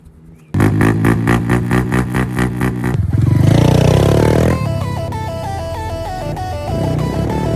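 Pit bikes on a backyard dirt track: a small engine idles with a pulsing putter, then revs hard and roars, followed by further engine noise with shifting pitch, loud and close throughout.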